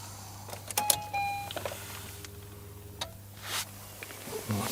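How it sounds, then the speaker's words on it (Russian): A VAZ 2110 fuel pump primes in a -17 degree frost, giving a faint electric whine for about a second inside a quiet car. A low steady hum runs underneath, with a few soft clicks and rustles. "Сейчас бензонасос прокачал"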